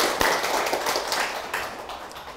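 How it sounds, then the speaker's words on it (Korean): A burst of clapping from a group of people at a show opening, dense and steady throughout, with one sharper clap near the start and no talking over it. "박수 한번 치겠습니다."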